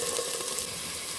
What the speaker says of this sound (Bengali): ফ্রাই করে নিচ্ছি।